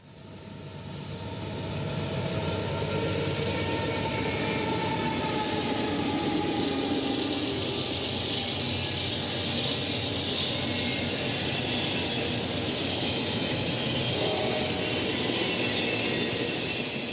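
Westbound freight train led by two rebuilt AC-44 locomotives, a steady loud broadband rumble and rolling roar that builds in the first two seconds and then holds close and constant.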